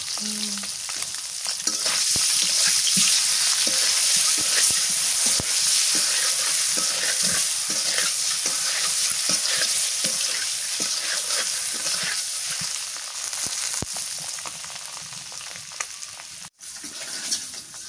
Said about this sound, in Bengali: ডিমগুলো লাল লাল করে ভাজলাম